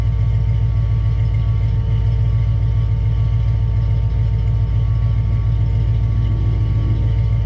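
A carbureted 351 V8 swapped into a Foxbody Mustang idles steadily near 900 rpm, a deep, even, loping rumble that holds close and constant with no talking.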